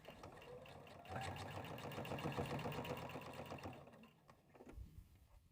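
A sewing machine stitches across the handle of a tote bag in one rapid, even run of close ticking strokes lasting about three seconds, followed by a faint knock and quiet handling.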